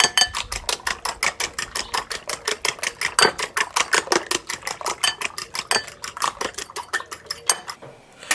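Rapid rhythmic clinking of a whisk against a bowl of eggs seasoned with salt and pepper, steady and close, continuing for several seconds before slowing at the end.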